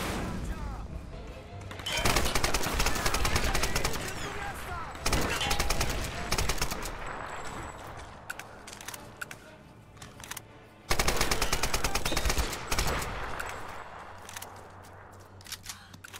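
Rapid bursts of automatic gunfire in the Tomb Raider video game come in two long volleys with quieter gaps, loud and close, and a voice speaks intermittently beneath the shooting.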